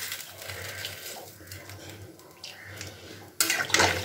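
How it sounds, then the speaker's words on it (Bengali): Water poured into a cooking pot of Bhola fish curry, a soft continuous splashing and trickling close by with a low background hum, ending in a brief louder pour. "এবার জলটা দিয়ে দিলাম।"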